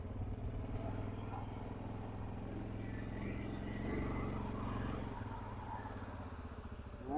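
Steady, low engine drone of a Loncin Xwolf 700L ATV being ridden in everyday gear, a smooth continuous hum with only slight swells and no talk.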